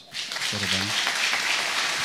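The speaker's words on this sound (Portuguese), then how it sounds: "Uma salva de palmas." A congregation at a Mass at the Chapel of the Apparitions in Fátima breaks into sustained applause for a newly married couple, rising right after a short spoken word from the celebrant and continuing evenly to the end.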